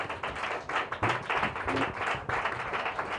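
A church congregation claps their hands loudly together, a dense burst of close, sharp claps that rises and settles over a few seconds with no voices over it.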